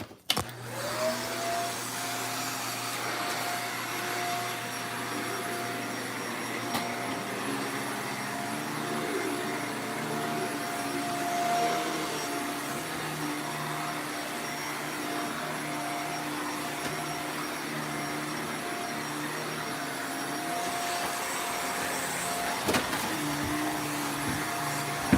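Vacuum cleaner running steadily while a gym is cleaned, a loud continuous motor whine with a stable tone throughout, a brief dip and restart near the end.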